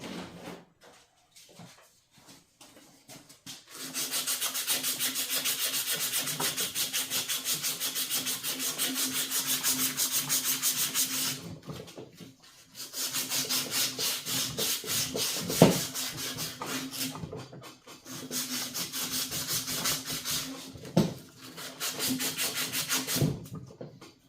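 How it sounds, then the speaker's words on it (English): Sandpaper rubs by hand over parts of a 1949 Farmall Cub tractor in long, steady, close scraping strokes, in three extended bursts separated by short pauses, with a couple of faint knocks; no voices. "Grab some sandpaper here."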